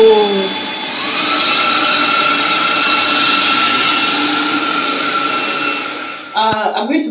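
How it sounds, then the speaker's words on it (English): A Proscenic P11 cordless vacuum cleaner spins up from quiet to a loud, steady high-pitched whine and holds there for several seconds, then clatters and rattles briefly near the end, close to the listener. "I can adjust the strength of the vacuum."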